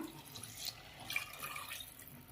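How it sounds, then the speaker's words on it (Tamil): Tamarind water being poured into a pan of curry, a steady splashing trickle with a few brighter gushes, moderately close and without speech. "ஒரு லெமன் சைஸ் அளவு புளி கொஞ்சம் தண்ணி நிறையா ஊற்றி கரைச்சி வச்சுருக்கேன், அதை இதில் ஆட் பண்ணிக்கலாம்"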